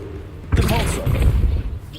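A Depulso spell from the Hogwarts Legacy video game lands as one sudden booming thud, followed by a rumbling tail under continuous game sound and talk.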